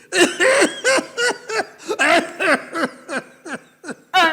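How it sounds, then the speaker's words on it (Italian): A rapid series of about a dozen hoarse, staged coughs in quick rhythm, loud and close, with a laughing, throaty edge and no speech. "Ma che bella tosse che ha!"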